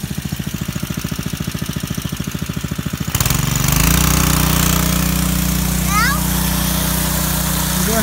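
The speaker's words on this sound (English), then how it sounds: "I'm going to rev it up first" A small engine on a gold-prospecting highbanker idles with a fast, even thump, then revs up abruptly into a loud, sustained roar.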